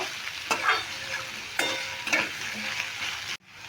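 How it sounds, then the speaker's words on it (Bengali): Potatoes sizzle and fry in a hot pan, broken by a few scraping stirs, before the sound cuts off abruptly. "এবার আলুটা একটু ভাজা ভাজা করে নেব"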